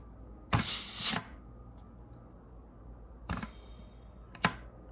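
Compressed air blown into the servo of a GM 4L60E automatic transmission during an air check: two sharp hissing blasts about a second long, close and loud, with a quick short puff near the end.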